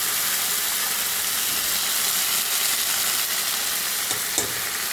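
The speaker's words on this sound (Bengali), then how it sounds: "এবার তেলের ওপরে দিয়ে দেবো জিনিসটা, বাটাটাকে তেলের ওপর দিয়ে দেবো।" Ground paste hitting hot oil sets off a loud, dense, steady sizzle that fills the whole stretch, close up, with a faint clink or two of stirring toward the end.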